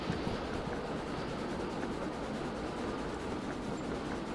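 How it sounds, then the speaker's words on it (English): Locomotive in the train simulator game Derail Valley running steadily along the track, a continuous dense rumble with faint rhythmic clatter, loud and alone without voices. "At least it's making nice chugging sounds."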